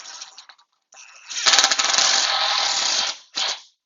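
Impact driver drives a bolt into a rolling barge hillside stair assembly, a short spin-up followed by about two seconds of loud, rattling hammering, then a brief final burst.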